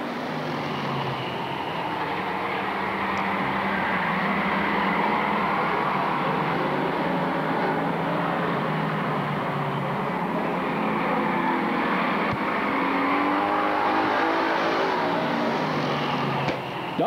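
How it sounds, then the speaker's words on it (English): Bomber-class stock cars race a heat around Lakeport Speedway, a continuous roar of engines surging and droning as the pack circles, fairly distant and steady with no talk over it. "Tubbs, car number 28, is still trying to catch up with Don Baker as they come into turn number 4"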